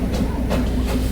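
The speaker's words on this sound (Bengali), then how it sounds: "ছেড়ে দিল ট্রেনটা।" A train pulling out of Darjeeling station gives a brief, loud, close rumble with faint clattering and a hiss, and no voices are heard over it.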